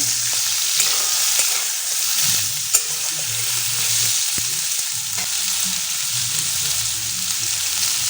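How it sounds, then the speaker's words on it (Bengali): Potatoes stirred and fried in a pan for a vegetable ghatkol dish: a steady close sizzle with soft scraping stir strokes throughout and one sharp utensil tap partway through. "আলুগুলো দিয়ে আমি ভালো করে নেড়ে চেড়ে আর একবার ভাজা ভাজা করে নেব"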